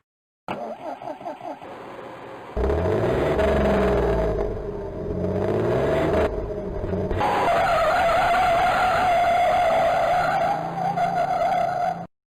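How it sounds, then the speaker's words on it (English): Loud bus engine roaring and revving up, with tires screeching and skidding as it accelerates, continuous and close for most of the stretch. "Why did the bus screech?"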